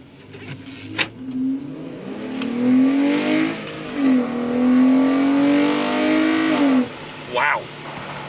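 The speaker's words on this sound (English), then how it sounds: "You might hear a little intake noise through the sunroof too." A Jeep Grand Cherokee fitted with a K&N cold air intake accelerating on the road, engine note rising in a loud, throaty climb, easing off and building again, with speech over parts of it.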